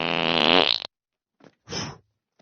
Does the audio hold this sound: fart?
yes